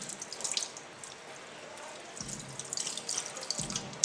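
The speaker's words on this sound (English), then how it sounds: "and then turn on the water, of course." A bathroom tap runs while makeup brushes are rinsed, giving a soft, fairly faint stream of water with light splashing and dripping, quiet and close.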